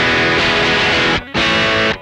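Driven electric guitar tone through a Vox Amplug AC30 headphone amp: a loud, distorted sustained chord rings out, cuts off briefly, then a second gritty chord rings again, with no voices over it.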